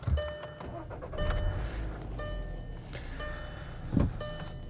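A 2013 Volkswagen Jetta with the 2.0 engine cranks and catches, followed by a steady idle inside the car, with faint electronic chimes and a brief thump near the end.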